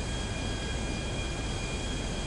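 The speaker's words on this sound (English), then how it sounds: "I gotta figure out how I'm gonna fucking land this plane now." Steady airplane engine drone in flight in Grand Theft Auto 5, a loud, continuous broadband roar with a constant tone and no talking.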